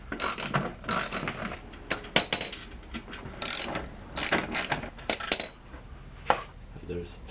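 Ratchet wrench clicking in short bursts while loosening 12mm bolts on a 2005 Hyundai Tucson during an oil change, close and crisp with brief pauses between runs.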